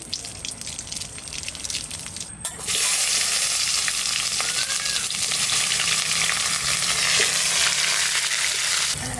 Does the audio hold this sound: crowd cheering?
no